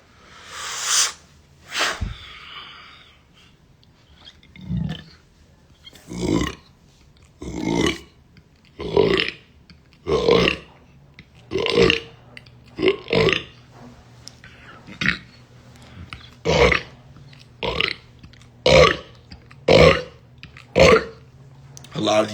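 A person burps again and again, more than a dozen loud, deep eructations coming every second or so in a steady series, close to the microphone.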